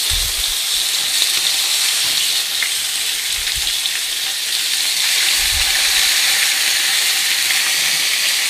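Loud, continuous sizzling and crackling of fish frying in a hot pan, a bright hiss that stays steady throughout with occasional soft pops.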